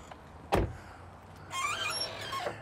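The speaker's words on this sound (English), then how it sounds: "I can pop the trunk, you can look in the trunk." A Dodge Dart trunk pops open with one sharp thunk, then a short stretch of higher mechanical whirring and squeaking, and a faint second click near the end; no one speaks.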